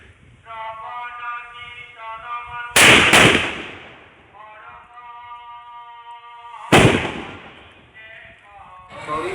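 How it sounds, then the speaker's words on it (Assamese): Two sharp firecracker blasts crack out several seconds apart, loud and close, with a voice talking between the bangs. "ফাইনেলি বোমা জ্বলাবৰ টাইম আহিল"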